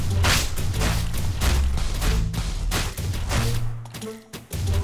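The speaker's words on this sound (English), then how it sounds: "Stop shooting that one, turret." Turret gunfire in the video game Frank & Stein: dense, continuous bursts of shots and booms, loud and close, with repeated blasts pounding through the whole stretch and a brief lull near the end.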